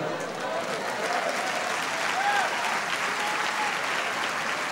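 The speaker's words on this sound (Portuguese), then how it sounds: "Dê um aplauso a ele." A church congregation applauds with a dense, steady wash of clapping that runs from start to finish, a few faint voices rising within it.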